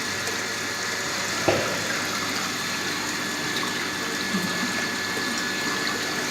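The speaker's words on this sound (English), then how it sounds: "Now we will allow the water to or air to escape from this manometer. The air bubbles are going outside of this." Water and air escape through an open valve on a U-tube manometer in a pipe-fittings rig, a steady hissing gush with a single faint knock, continuous and fairly close, with no talk.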